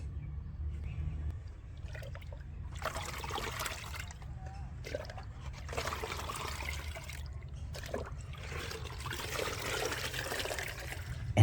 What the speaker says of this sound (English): strain the liquid